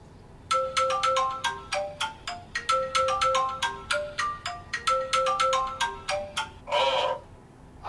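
A phone ringtone plays a repeating electronic melody of quick, bright tones in a steady rhythm during a call to a father, loud and close, ending in a brief burst of noise.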